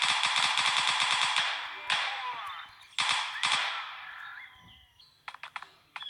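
Gunfire in a GTA game on Android: a rapid burst of automatic shots followed by a few single cracks and short clicks, close and fairly loud, fading between bursts.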